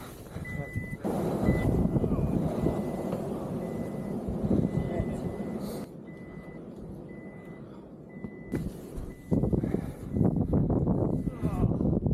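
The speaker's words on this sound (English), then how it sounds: "The SOS has gone off as well." A BMW R1300GS adventure motorcycle sounds its SOS alert during off-road riding: a steady, repeating high electronic beep, heard beneath loud wind and engine rumble with brief talk.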